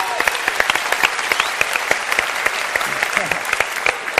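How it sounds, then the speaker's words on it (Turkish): A television talk show studio audience claps steadily for a guest, with dense, even applause and sharp individual claps standing out from the crowd throughout. "Bir alkışla Joker'i alalım arkadaşlar."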